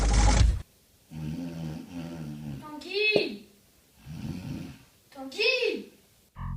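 A man snores loudly in a bedroom in long, rhythmic, rasping snores separated by short silences, with a brief spoken word at the start.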